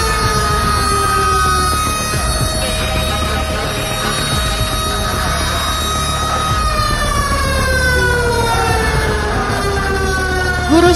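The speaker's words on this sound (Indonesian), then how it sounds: "tiba-tiba sirine tanda bahaya berbunyi, memberikan sinyal bahwa terjadi gempa bumi." A loud emergency warning siren wails continuously during an earthquake drill at a junior high school, its steady rising and falling tones sounding close and dominating throughout.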